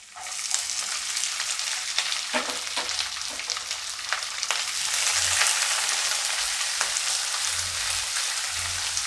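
Curry leaves and onion frying in hot oil for Indori poha, a loud, steady sizzle with stirring scrapes, swelling after a few seconds and continuing without talk.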